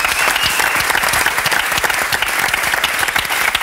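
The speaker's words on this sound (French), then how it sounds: "On applaudit." Studio audience at a French television talk show breaks into dense, sustained applause for a winning contestant, many hands clapping loudly and steadily with no talk over it.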